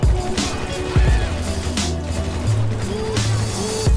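Go-kart engine in the GTA V video game, a buzzy rattling mechanical drone with shifting pitch, heard under players talking over voice chat.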